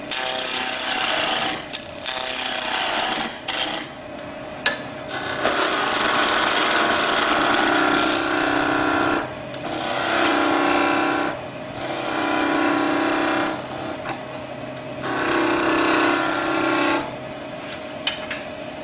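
A skew chisel peels wood from a spinning pommel on a lathe, giving loud, bright scraping bursts that come in several long passes separated by brief pauses.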